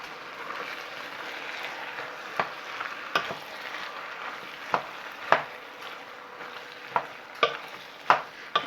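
Meat for chicken corn chowder cooking in a pot, giving a steady soft sizzle with occasional sharp clinks and scrapes of a utensil stirring against the pot, no talking.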